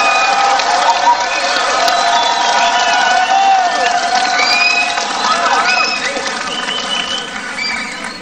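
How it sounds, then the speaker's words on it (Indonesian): A large crowd cheers, claps and whistles at the closing of the third NasDem party congress at JCC in Jakarta, a continuous roar that fades slightly toward the end. "Saya harapkan berikan aplaus, tepuk tangan yang semeriah-meriahnya"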